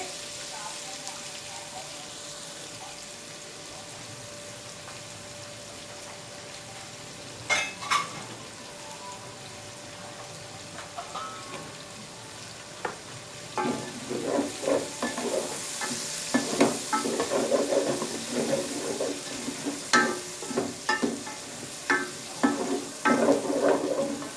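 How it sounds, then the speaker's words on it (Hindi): Onions frying in a pot for desi chicken curry until lightly browned, starting quietly and then building into a busy crackling sizzle with scraping stirs over the last half, a voice faintly present at times. "प्याज को हल्का सा ब्राउन कर लेंगे"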